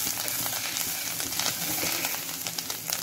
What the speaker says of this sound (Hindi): अदरक लहसुन का पेस्ट जो हमने बना के रखा था वो इसमें डालेंगे। 2 मिनट के लिए इसको भूनेंगे थोड़ा सा।